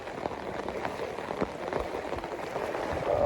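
Steady heavy rain in a Punjab village hisses and patters close by, with scattered louder drops and no voices, growing slightly heavier toward the end.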